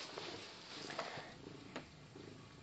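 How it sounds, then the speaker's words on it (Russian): Close, soft purring of a cat, a low rhythmic rumble with faint breathy pulses, quiet and steady with no voices. "Он урчит."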